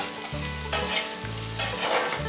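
Potatoes for hillbilly hash frying over medium heat in a pan, a loud, close, continuous sizzle with bursts of crackling and repeated scraping stirs, no voices.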